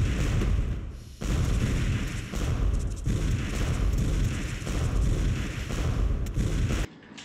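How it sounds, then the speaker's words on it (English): Missiles fired in Super Smash Bros. Melee: a dense run of booming blasts and bursts, loud and close, with brief dips between volleys. "Stop freaking shooting missiles"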